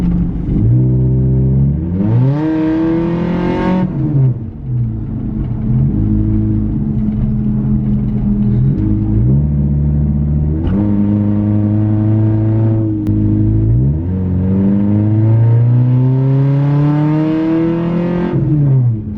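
Honda CR-V with a suspected transmission problem accelerating on a test drive, heard from inside as a loud, steady engine drone that rises in pitch through several gear changes, with each shift marking a brief drop before climbing again.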